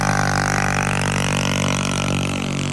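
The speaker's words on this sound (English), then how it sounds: "he didn't have a muffler on it" A motorcycle with no muffler drones steadily, loud and raw, with a buzzy harmonic roar, brash and close, its pitch shifting slightly.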